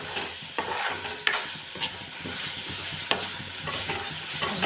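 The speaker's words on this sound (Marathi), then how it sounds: "आता त्यामध्ये आपण शिजवलेले छोले टाकणार आहोत." Cooked chickpeas being stirred into a sizzling onion-tomato masala in a pan, with steady frying hiss and repeated scraping knocks of the spoon, close and fairly loud, no talking.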